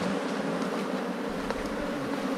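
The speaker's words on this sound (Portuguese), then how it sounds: "Aqui nós chega com enxame aqui mais ou menos, tá na faixa de 60 mil abelhas." Large honeybee colony of roughly 60,000 bees at a hive, a steady, dense, close buzzing drone that holds evenly throughout with no talking.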